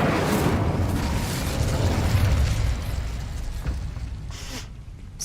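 The Incendio fire spell bursts in Hogwarts Legacy, a loud, dense whooshing roar of flame that holds steady for several seconds near a castle gate, then eases slightly toward the end.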